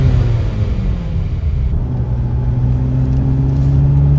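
Ferrari F355 with a manual gearbox driving along, its engine holding a steady, loud rumbling drone with sustained harmonic tones that shift slightly in pitch, heard from on board without speech.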